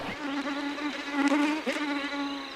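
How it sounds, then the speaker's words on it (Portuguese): Mosquitoes buzz in the New Guinea jungle, a steady high whine that is close and continuous and swells slightly as the insects move. "Contra os mosquitos,"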